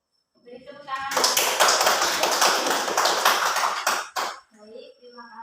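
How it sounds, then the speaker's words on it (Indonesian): A classroom audience claps after a group presentation in a microteaching session. A loud burst of many hands lasts about three seconds, with voices just before and after it. "Beri tepuk tangan."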